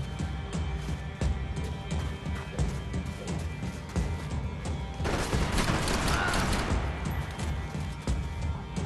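Dense, continuous gunfire in the video game Max Payne 3, with bursts and crashing impacts, loud and chaotic throughout, growing heavier partway through.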